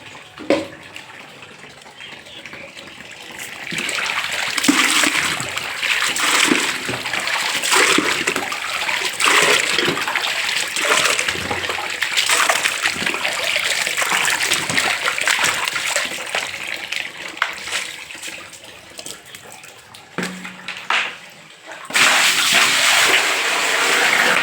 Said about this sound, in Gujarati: બાથરૂમમાં પણ એક ટપ જ ખાલી છે, તો હાલો ભરી લઉં પાણી